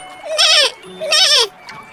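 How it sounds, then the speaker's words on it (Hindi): A goat bleats twice in long, wavering cries separated by a short pause, loud and close with nothing else around it. "तभी उसकी नजर एक और बकरी पर पड़ी जो उसी पेड़ के सहारे उस पार आना चाहती थी"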